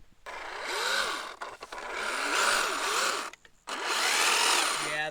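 A Traxxas Slash 2wd RC car stuck in thick, long grass, its electric motor whining loudly in three bursts of spinning and revving with short pauses between them.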